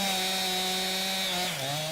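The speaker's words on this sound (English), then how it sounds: "Chainsaws revving" Chainsaws cutting up a big fallen tree during storm cleanup drone steadily at high revs, then dip briefly in pitch near the end, loud and close with no talking.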